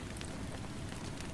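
Steady rain falls as a dense, even hiss of drops on surfaces, continuous and fairly soft, with no voices or other sounds.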